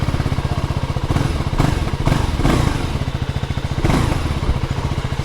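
A KTM Duke 390 Gen 3 motorcycle engine chugs nearby with a fast, pulsing beat, rising briefly in a couple of louder bursts.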